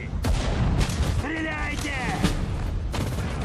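Grenades and artillery explode in Sudden Strike 4 during the Battle of Stalingrad, dense booms and blasts layered under a voice speaking, with continuous loud battle noise throughout.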